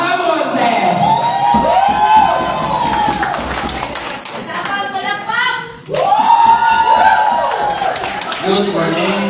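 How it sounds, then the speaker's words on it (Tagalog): A crowd claps and cheers loudly, with drawn-out shouted exclamations rising over the noise twice. "Palakpakan po natin ang masigabong palakpak"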